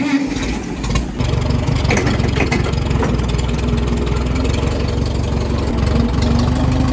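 An old farm truck engine runs after a choke start with a steady, loud, low rumbling idle and a slightly knocking rhythm, close by and continuous throughout.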